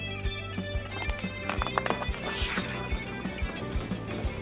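A dapple gray horse trots at a quick, steady rhythm, its hooves clip-clopping clearly and close over a faint background.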